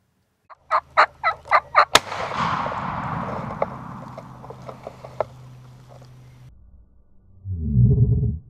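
A wild turkey gobbles in a fast run of rapid rattling calls during a Florida opening-day hunt. A sharp loud crack follows, then a long fading rustle and a low rumble near the end.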